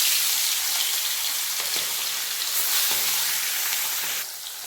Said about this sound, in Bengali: তেল ভালোভাবে গরম হয়ে গেছে এরপর মাছগুলো ছড়িয়ে